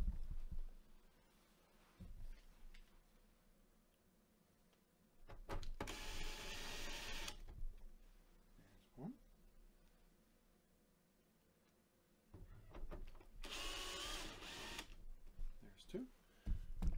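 Black screws are driven back into the metal case of a CCTV DVR recorder, giving two loud whirring bursts of a powered driver with clicks and handling noises between them, close by.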